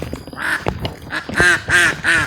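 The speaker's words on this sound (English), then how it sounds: "Those are the ducks." Several loud, nasal duck quacks arrive in a rhythmic series of three or four bursts, close by and clear, with faint background noise between them.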